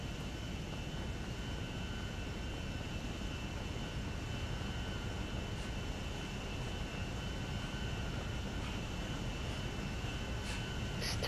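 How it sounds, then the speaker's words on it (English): Airplane taking off in Grand Theft Auto V, a steady, faint, distant jet engine roar holding at an even level throughout, with no talk. "I watch this plane take off."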